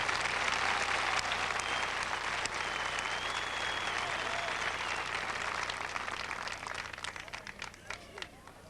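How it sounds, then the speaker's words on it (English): A large graduation audience at a 1999 high school ceremony applauds steadily, a dense wash of clapping that stays loud before thinning into scattered claps near the end. "Let's give them both another round of applause, please."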